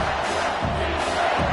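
Stadium crowd in the NCAA 25 college football video game roars steadily before a big third-down play, a dense, continuous wash of cheering with no break.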